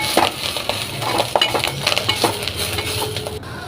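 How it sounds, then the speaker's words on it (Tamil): Drumstick leaves sauté with salt in a pan, giving a steady close sizzle broken by repeated scraping and clinking stirs from a spoon against the pan. "உப்பு சேர்த்து கொஞ்சம் வதக்கி விட்டு"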